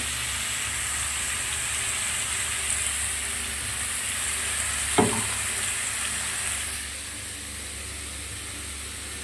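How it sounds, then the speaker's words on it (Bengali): Cauliflower frying in a pan with salt and turmeric, giving a steady, loud hiss of oil with one brief knock midway, the sizzle easing slightly toward the end, no voices. "এবারে ফুলকপিটা নুন হলুদ দিয়ে বেশ লাল লাল করে কড়া করে ভাজবো"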